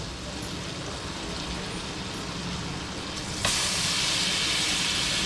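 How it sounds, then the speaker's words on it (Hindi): Onion tipped into melted butter in a hot pan for butter chicken sets off a continuous broad hiss, which jumps abruptly louder and brighter midway as the frying intensifies, close and steady with no talk. "मक्खन डाल के अब इसमें जाएगा प्याज"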